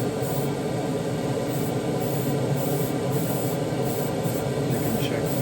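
Primer sprays in a continuous hiss onto plastic parts of an AMT 1950 Ford Convertible model car kit, with faint rhythmic pulses in the spray over the steady noise.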